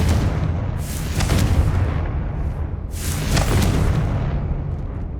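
Confringo fire-blast spells booming repeatedly in the Hogwarts Legacy video game, loud explosive bursts recurring around a continuous rumbling low-end, with two strong blasts standing out in a dense battle mix.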